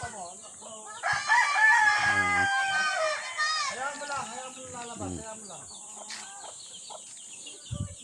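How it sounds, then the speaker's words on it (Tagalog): Small Texas chickens on a farm, a rooster crowing loudly near the start amid scattered clucks and calls from several birds, with someone talking over the flock. "Ang daming mga manok din, maliliit pa oh, mga Texas yan."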